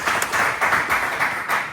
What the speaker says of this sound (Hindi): एक बारी तालियां बजाई जाए।